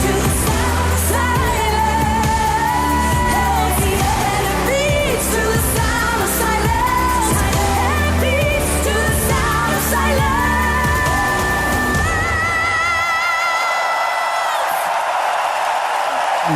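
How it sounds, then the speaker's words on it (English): Loud music from a Eurovision 2016 performance plays steadily, then breaks into a roaring wash of crowd applause and cheering near the end. "That is the sound of rapturous applause."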